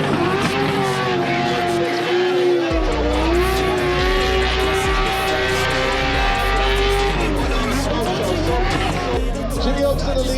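Race car on a qualifying run with engine roaring and tires squealing, loud and continuous, with a commentator talking over it throughout.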